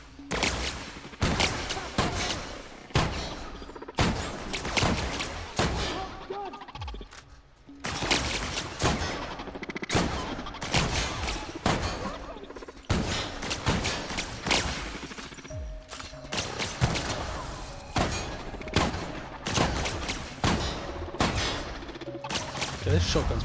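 Shotgun blasts from The Outer Worlds video game, loud and repeated in rapid bursts with brief pauses, mixed with other combat gunfire and crashes throughout.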